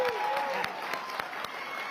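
A town hall crowd applauds and cheers, steady clapping from many people with sharp individual claps popping out and a voice drawn out over the start, moderately distant.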